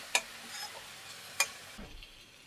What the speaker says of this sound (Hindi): अब इसको अच्छे से चला लेते हैं मसालों को।